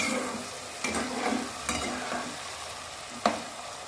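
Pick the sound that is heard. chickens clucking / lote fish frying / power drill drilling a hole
lote fish frying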